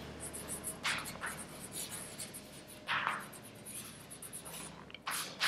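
Chalk or marker writing on a board in a maths classroom, several short scratchy strokes in bursts with quiet gaps between, close and fairly soft.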